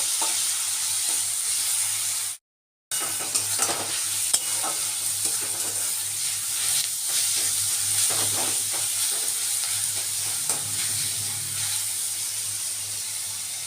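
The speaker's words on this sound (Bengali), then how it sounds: "এইভাবে করে একদম লাল করে ভেজে নেব" Onions frying in a pan with salt for a prawn and onion dish, a steady close sizzle with scraping stir strokes, briefly cut out near the start, no talk.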